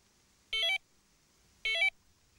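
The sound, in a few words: bite alarm buzzer beeping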